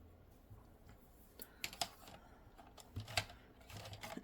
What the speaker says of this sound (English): I don't know if you guys can hear that, but, you know, pencil ASMR.